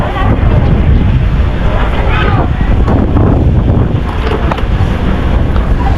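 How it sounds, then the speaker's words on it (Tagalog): Strong typhoon wind at a fishing port in Dinahican, Infanta, Quezon, Philippines buffets the microphone with a loud, constant roar and rushing gusts, with a faint background of water and boat noise. "silip tayo doon kung gano'ng kalakas ang hangin"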